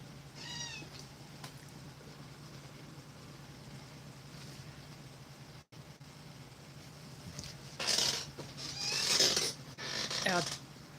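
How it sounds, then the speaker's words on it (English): A cat meows near the mic: one short meow at the start, then a cluster of several louder meows toward the end, over a low steady hum with some talking. "I don't know if you heard that meow."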